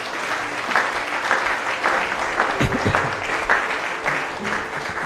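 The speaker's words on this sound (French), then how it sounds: "Est-ce qu'on peut acclamer le Seigneur?" A church congregation claps and applauds the Lord together in a sustained, steady burst of many hands, with scattered cheers mixed in, filling the hall at moderate loudness.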